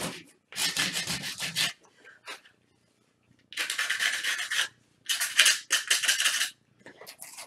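Sandpaper rubs back and forth along the edges of chalk-painted wood, close and scratchy in quick rhythmic bursts separated by short pauses.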